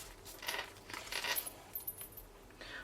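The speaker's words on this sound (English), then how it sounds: "That's my scissors." A pair of scissors set down on a crafting table during vellum card making gives a few light metallic clinks and clatters, close and fairly quiet, with no talking.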